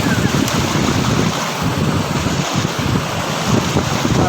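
Strong wind gusts roar steadily during a hike through a pine forest, buffeting the microphone with a dense, constant rush at close range and no clear voices.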